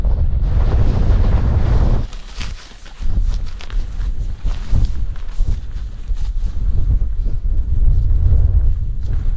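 Strong gusts of wind buffet the microphone in a steady roar at a camp in the Lake District, with a brief lull and some rustling, no voices.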